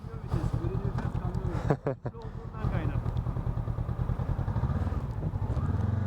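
Honda NX500 motorcycle pulling away in first gear, its engine a rhythmic throbbing pulse close by, briefly dipping then rising steadily, with someone talking over it.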